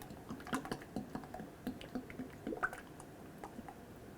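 Mercon LV transmission fluid drains through a funnel into a 2008-2010 Ford F-250, heard as faint, irregular drips and soft gurgles close by.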